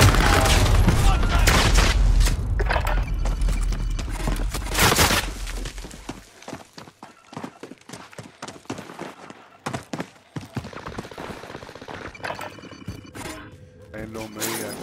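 Gunfire in a Call of Duty: Modern Warfare quads match, opening with a loud sustained barrage and heavy booms, then breaking into rapid scattered shots with voices speaking over the fight.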